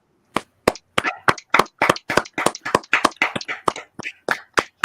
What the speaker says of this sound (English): Heard applause